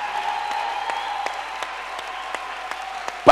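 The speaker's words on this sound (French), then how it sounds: "Là il faut applaudir." Scattered, sparse clapping from an audience during a French talk, a few distinct claps over a steady hum, ending in a sudden loud bump.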